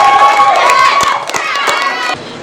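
An open-mic audience claps and cheers for a poet, a loud, dense crowd roar with whoops that holds steady, then eases slightly toward the end.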